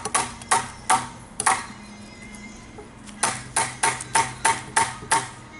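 Staples are driven into upholstery webbing with sharp, percussive snaps, a few spaced shots at first, then a quick run of six or so evenly paced bangs after a short pause, close and loud, with no speech.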